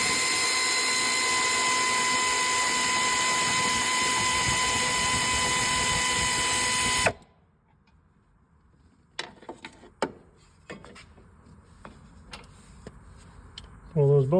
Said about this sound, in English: Using the same deep well socket, 15 with a 1/2-inch drive ratchet.